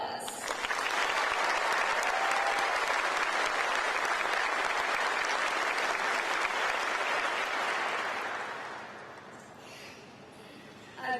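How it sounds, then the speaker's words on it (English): A large audience at an evening event honoring military families breaks into sustained, dense applause that holds steady for several seconds before tapering off and fading near the end. "Let's give her another round of applause."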